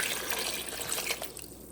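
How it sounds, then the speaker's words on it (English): Water pours steadily into a cooking pot for a soup with ginger and salt, a continuous splashing trickle heard up close with no talk over it. "而家咧就要加啲水。"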